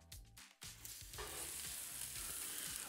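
Onions and garlic frying in oil in a wok, a bright, dense sizzle that swells into a loud continuous hiss after a short quieter start with some clatter.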